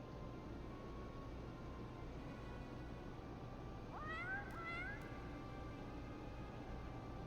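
A single short cat meow rises and falls midway through, from the video game Final Fantasy XIV, set against a steady, faint hiss that runs throughout.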